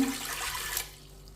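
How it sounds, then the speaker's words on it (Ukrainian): Water pours briefly into a pot of sugar with a bright splashing rush that tapers off after about a second, fairly close and with no voices. "У горниць висипаю цукор, виливаю туди воду"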